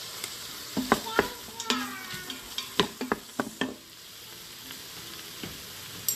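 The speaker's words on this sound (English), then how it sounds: "Saute the onion. Now add mushrooms." Onion and mushrooms frying in an Instant Pot on the saute setting: a soft sizzle beneath a run of sharp clacks and scrapes from a utensil stirring, close up, fading to a quieter sizzle near the end.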